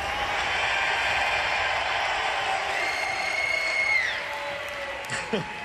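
Live audience at a World of Warcraft raid event cheering and applauding for the Horde team, a dense sustained roar of crowd noise that fades a little near the end.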